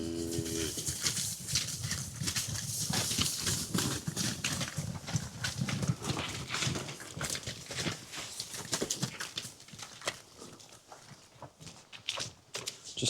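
Cattle walk into a straw-bedded barn on a rainy day, their hooves producing a steady stream of soft thuds and shuffling that runs throughout without voices.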